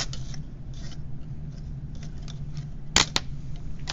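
Snipping through a component lead or break-away header on a through-hole electronics board build, two sharp close clicks close together over a steady low hum, with faint handling rustle before.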